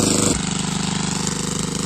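A power tiller's engine works a hillside field, running as a loud, steady, close-up diesel chug with an even rapid rhythm. Another sound at the very start gives way to it.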